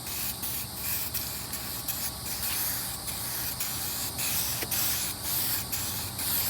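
Aerosol spray coating hissing steadily from a can as it is applied in heavy coats, a close, continuous spray with brief pauses and slight pulses between passes.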